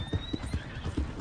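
In the Red Dead video game, a horse's hooves clip-clop in a brief quick rhythm while the horse gives a whinny, fairly quiet and close.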